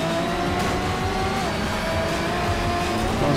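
Race cars roaring at the start of a race in Need for Speed Shift, with steady loud engine drone and rising whine as the pack accelerates together, close by and without pause.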